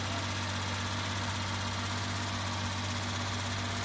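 A Mitsubishi Eclipse engine idles steadily with a faint rapid lifter tapping, a low continuous hum close by and no talk.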